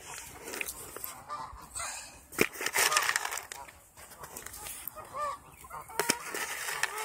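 Geese at a pond at Kellogg Community College, honking in repeated, uneven bursts close by, with some louder calls rising over a rustling background.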